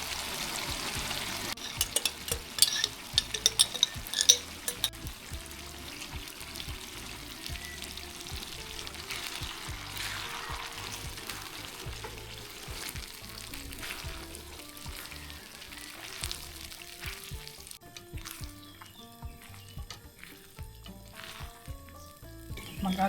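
Salted shrimp paste fries with onions and tomatoes in a pan, giving a steady close sizzle with occasional stirring scrapes that grow quieter toward the end. No one speaks.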